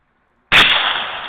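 A single sharp rifle shot at a long-range shooting competition cracks loudly after silence, then rings out in a broad, slowly fading echo.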